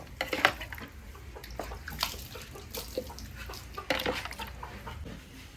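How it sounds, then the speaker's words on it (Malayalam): Water splashing and trickling as a cow's udder is washed by hand with potassium permanganate solution, with intermittent sloshes and drips close by and no talk. "പൊട്ടാസ്യം പെർമാനേറ്റ് സൊല്യൂഷൻ ഒഴിച്ചിട്ടുള്ള ലായനിയിൽ ഒന്നും കൂടി അകിട് വൃത്തിയായിട്ടൊന്ന് കഴുകുക"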